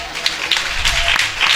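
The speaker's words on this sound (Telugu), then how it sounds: "చప్పట్లో" Audience applause in a church gathering during a Telugu sermon, a steady wash of clapping from many hands, fairly loud and close, filling the whole moment without talk.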